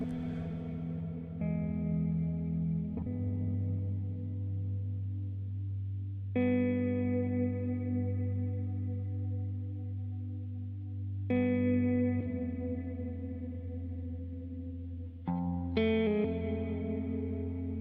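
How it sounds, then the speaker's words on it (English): A sustained looped instrumental phrase with a looper pedal's multiply effect, repeating in sections that jump and restart, no voices over it. "we can cycle through different sections of our loop with this effect on, or with this new multiply length"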